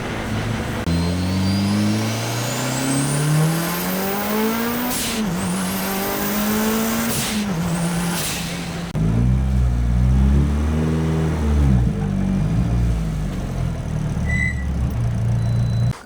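A Mitsubishi Evo 9 four-cylinder car accelerates hard through the gears, engine pitch climbing repeatedly with sharp shift breaks, loud and close from inside the cabin, with a brief tire squeal.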